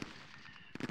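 Gunfire from the war game John Tiller Campaign Series West Front, Operation Compass: after a low rumbling stretch, a quick cluster of sharp shots bursts out near the end, quiet overall.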